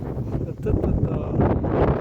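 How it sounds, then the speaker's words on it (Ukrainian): Strong cyclone wind gusts buffet a microphone near a beach during a hurricane in Kharkiv, with branches being blown about; a steady, loud roaring rush with rustling throughout, no clear talk. "Воздувало все. Ветки сдувают."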